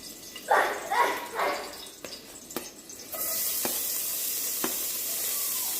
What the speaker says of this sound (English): first I'm going to saute the onion and the garlic